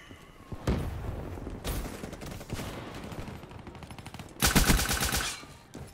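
The nail gun weapon fires in the shooter game Black Ops 3, loud rapid bursts of sharp mechanical shots coming in several clusters, with the last burst the loudest, amid in-game noise.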